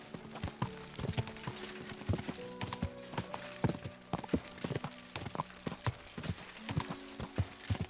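A horse's hooves clip-clopping in Kingdom Come: Deliverance 2 while riding toward a town, a steady rhythmic trot of crisp hoof strikes on firm ground, close and continuous throughout.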